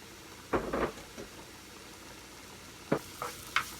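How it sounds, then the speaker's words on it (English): Food sautés in butter in a pan with a soft background sizzle, broken by a few short stirring scrapes near the start and toward the end, close and fairly quiet, with no one talking. "we're just gonna saute those up so they're all getting nice and happy"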